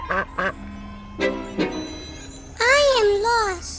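Cartoon duckling quacking in a kids' animation, a few short high nasal quacks followed by a longer wavering squawk, close and clear, with brief voices in between.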